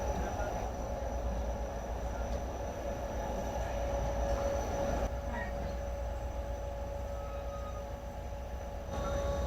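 The Sukkur Express passenger train travels at night between Karachi and Sukkur, with a continuous close rumble of wheels and carriages and a steady tonal whine rising above it.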